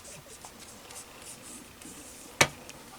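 Scissors snip once, crisp and close, cutting thread wound around a bobbin on a Janome MC 6650 sewing machine. A faint, quiet room sound runs before and after the cut.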